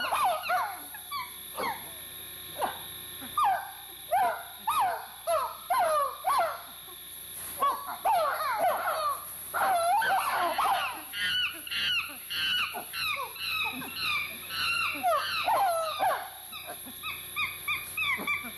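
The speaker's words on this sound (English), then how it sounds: "they wah at him to make him go away, which is a great example of the wah bark" Chimpanzees give a long series of short, hoarse wah barks in an irregular rhythm, several animals calling over one another at moderate distance with a constant hiss underneath.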